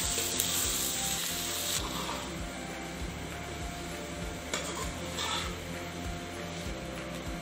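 Chopped tomatoes and green chillies cooking with onions in a pan, heard as a dense, continuous sizzle with a steady mechanical hum and faint rhythmic ticking beneath it, close and even, with no talking.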